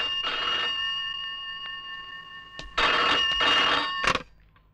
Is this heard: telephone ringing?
yes